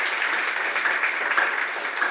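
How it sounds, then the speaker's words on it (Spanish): Church congregation gives a strong round of applause during a sermon, a continuous, even roar of many hands clapping, moderately distant and without speech. "Dele un fuerte aplauso al Señor"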